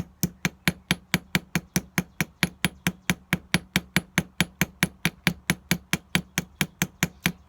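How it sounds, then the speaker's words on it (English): A ball peen hammer tapping a tubular rivet on jewelry work, a steady run of about thirty crisp, evenly spaced metallic taps, close and bright with a faint ring after each strike. "I will go in with my ball peen hammer or my chasing hammer with the ball end, and I'm going to start tapping it around"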